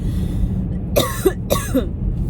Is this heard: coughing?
yes